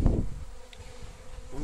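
Honey bees buzz inside a garage during honey extraction at an English apiary, giving a soft, steady hum close by, with a brief louder thump at the start.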